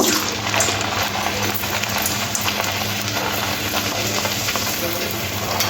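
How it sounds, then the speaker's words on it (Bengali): Potato puris deep-frying in hot oil, a dense, steady bubbling sizzle that holds loud and close for the whole stretch, with a low hum underneath and no speech. "গরম তেলের মধ্যে একটা একটা করে আলুর পুরিগুলো ছেড়ে দেব"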